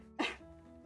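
A single short sneeze bursts out indoors, close and sudden, followed by quiet room tone.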